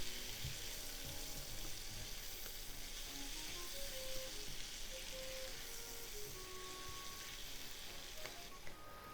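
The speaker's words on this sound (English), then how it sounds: "Cook until the onion is nice and soft." Sliced onion frying in a pan with a constant soft sizzle that fills the whole stretch at low volume, close by, with no speech over it.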